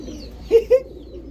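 Two short, soft coos from Lal Patti (red-winged) Giribaz pigeons, close by, over a low steady background hum.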